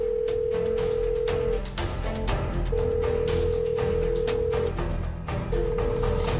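Phone ringing while calling Mas Herman, unanswered: a steady electronic ringback tone in long repeated beeps with short gaps, sounding three times over a low background.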